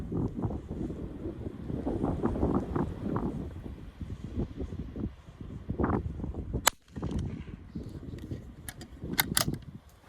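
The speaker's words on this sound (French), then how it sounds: "il y a vraiment beaucoup de vent là, ça va être compliqué" Strong wind gusts buffet the microphone at an outdoor .22 Long Rifle shooting range, rumbling in uneven surges with sharp cracks and clicks breaking through in the second half.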